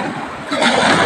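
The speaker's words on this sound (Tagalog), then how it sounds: "Malakas po ang alon niya." Strong ocean waves hit the shore in rough weather brought by a low pressure area. A loud, hissing surge of water swells up midway through the short burst.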